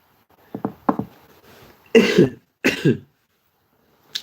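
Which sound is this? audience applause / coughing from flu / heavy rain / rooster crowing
coughing from flu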